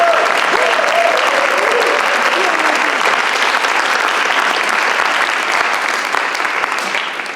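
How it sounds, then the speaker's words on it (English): An audience at a fellowship celebration of service gives a lively round of applause: thick, continuous clapping from many hands, loud and sustained, tapering slightly at the end, with some faint voices and cheers beneath. "Can I just have one more really rambunctious round of applause for Ellen?"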